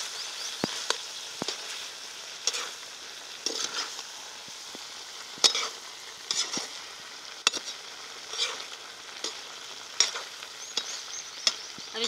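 Pumpkin curry frying in a pan, a steady soft sizzle broken by repeated scraping stirs of a spoon against the pan at irregular intervals, close and moderately loud with no voices.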